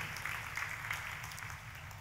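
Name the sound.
church congregation applauding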